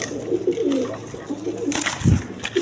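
A female pigeon at a pigeon market gives low, wavering coos close by, followed near the end by a brief burst of scuffling noise and a soft thump.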